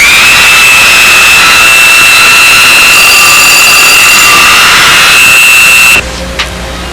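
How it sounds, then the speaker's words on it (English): Power tool truing up the edges of a round hole cut in plywood, a loud continuous high-pitched whine held steadily close to the mic for about six seconds before cutting off abruptly. "What I'm doing is truing up the edges of the hole."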